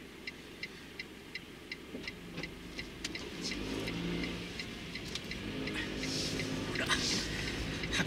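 A truck drives past on a town street, its engine starting faint and distant and swelling into a steady, nearer rumble over the second half, with light ticking sounds early on.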